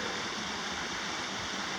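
A constant soft rush of Canyon Creek running near Three Fingered Jack in central Oregon, an even, fairly quiet hiss of flowing water with no other sounds.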